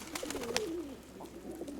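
Pigeons in a loft coo in low, rolling phrases close by, with a few soft clicks and rustles of wings and feet mixed in over about two seconds.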